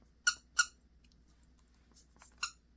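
Squeaky toy frogs squeaked by hand: two sharp squeaks close together, a pause with a faint rustle, then a softer squeak and one more sharp one, close and loud in a quiet room.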